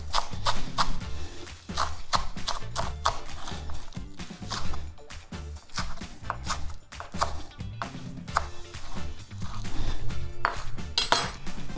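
Knife slicing green onion tops on an angle on a cutting board, a brisk run of repeated chopping taps with light clinks, close and steady with brief pauses, and no voices.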